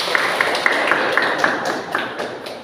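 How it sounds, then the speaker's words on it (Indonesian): A classroom applauds Diana Bella with light, fairly quiet clapping that taps along steadily for a couple of seconds, with voices murmuring underneath. "Kasih tepuk tangan dulu dong Diana Bella"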